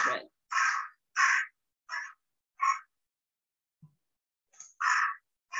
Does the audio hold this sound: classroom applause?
no